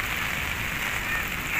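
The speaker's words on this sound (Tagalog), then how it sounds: "Lakas sana tumigil tong ulan na to." Steady rain falls at an outdoor fishing spot, a dense continuous hiss of drops on surfaces, close and even throughout with no talk.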